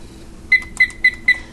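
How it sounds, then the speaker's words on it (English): Four short, sharp electronic beeps from a kitchen timer, evenly spaced and close by in a quiet kitchen, with nothing else heard. "so I'll set my timer"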